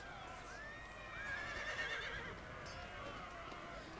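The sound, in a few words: cavalry horses charging, from a video game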